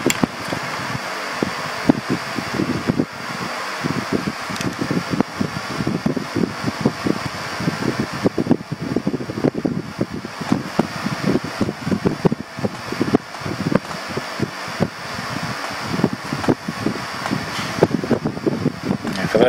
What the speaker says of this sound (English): So we'll go ahead and we will start the fan up. We're going to start on low.